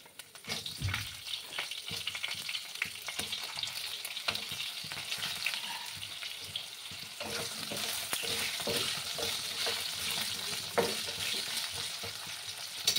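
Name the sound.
potatoes frying in oil with turmeric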